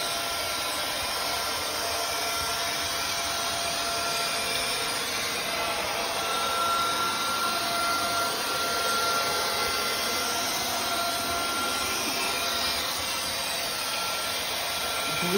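A Numatic 440NX floor scrubber drones steadily with a loud, even whirring suction roar that holds constant throughout, close by, with a faint high whine and no voices.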